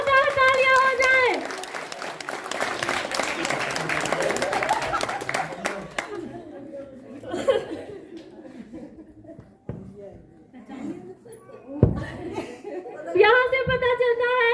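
An audience claps loudly at a kids' play zone grand opening, with chuckles and laughter mixed in, then voices take over and a second burst of clapping rises near the end.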